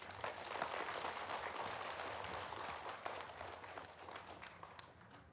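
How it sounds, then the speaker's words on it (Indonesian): A studio audience applauds steadily, many hands clapping together in a sustained, even burst from start to finish. "Tepuk tangan semua untuk Mbak Siti, boleh?"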